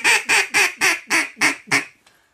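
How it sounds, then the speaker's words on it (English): Hen mallard greeting call blown on a duck call: seven loud, close, nasal quacks in a steady rhythm, each starting strong and tapering slightly before a brief fading tail. "the hen mallard greeting call is inviting these ducks in for a feast"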